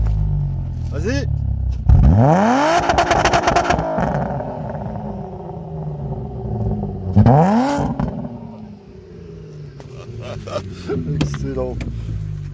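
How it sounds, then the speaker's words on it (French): A Volkswagen Golf 4 V6 tuned to run on E85 is revved hard several times. The engine's pitch climbs steeply and falls back in loud bursts, and people talk in between. "Elle fait un bordel la bagnole."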